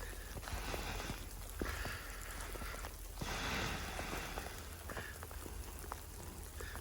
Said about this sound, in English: It's more like ice and freezing rain and stuff like that.